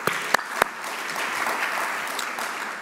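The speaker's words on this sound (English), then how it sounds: "Round of applause for these folks." Audience applause fills a conference room at a sustainability technology event, a steady wash of many hands with a few sharper claps near the start, no voices over it.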